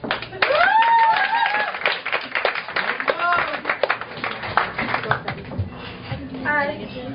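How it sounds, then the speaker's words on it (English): Audience clapping at a poetry night breaks out in scattered, uneven bursts, mixed with cheers and whoops and some talk, then thins out toward the end. "More clapping."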